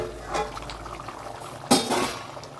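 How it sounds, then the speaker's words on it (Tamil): Spicy drumstick kara kuzhambu simmering in a pot, a soft steady bubbling with a brief louder burst midway, no voices present. "எவ்வளோ சூப்பராக கொதிச்சு வருதுங்க"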